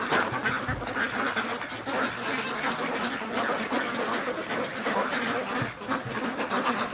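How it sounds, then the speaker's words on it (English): A duck quacks repeatedly in an outdoor setting with ducks and other fowl, busy overlapping calls running throughout at close range. "Oh, Doug, that's your favorite duck, isn't it?"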